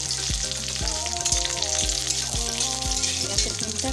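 Cashews, raisins, cinnamon, cloves and cardamom sizzle in hot ghee in a wok, a steady close frying hiss with occasional stirring clinks, no talking.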